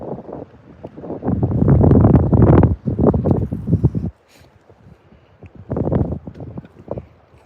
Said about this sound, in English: The wind is getting kind of brutal.